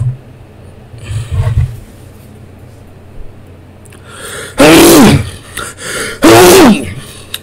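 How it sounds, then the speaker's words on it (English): Two loud, close sneezes burst out in quick succession after a quieter stretch with faint background noise, each a sharp explosive blast. "That shit made me fucking sneeze"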